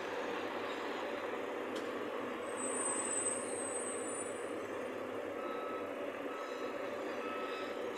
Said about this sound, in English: he's got a wider truck, he can't flip the truck around as easily